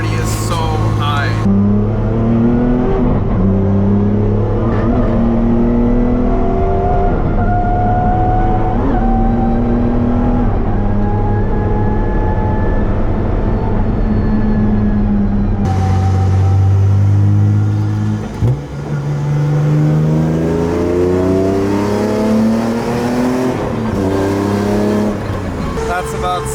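A BMW E46 M3 with a Hamas airbox, after a two-year build, pulls at about 60-70% throttle on the Nordschleife. The engine and exhaust are loud and close, with rising revs, shift breaks and repeated pulls through the gears.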